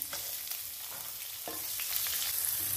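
Chopped onion sizzles in hot oil with lightly roasted cumin, ajwain and hing for a veggie burger filling, a steady close crackling hiss that runs unbroken throughout.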